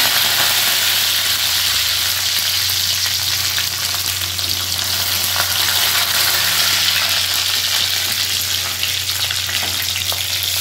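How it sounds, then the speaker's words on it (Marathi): Curry leaves hit hot oil already tempered with cumin and mustard seeds for a tomato bhaji, a loud, sustained crackling sizzle with stirring, close up and steady throughout without speech. "जिरे मोहरी टाकल्यानंतर तुम्ही त्याच्यात टाकायचे कढीपत्ते"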